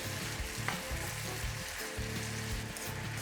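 Green bell peppers frying in a pan, a steady close sizzle with faint stirring and crackle throughout, no voices.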